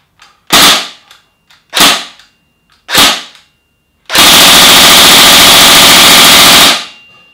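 A Tokyo Marui HK416C airsoft rifle fires three short, loud rattling bursts, then one long sustained stream of rapid fire that lasts about three seconds before stopping.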